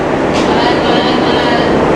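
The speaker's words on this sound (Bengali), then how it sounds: "আর এই যে আমাদের মধুমতি এক্সপ্রেস ট্রেন" The Madhumati Express stands at Ishwardi railway station as a loud, continuous rumble with broad noise fills the platform, close and unbroken for two seconds.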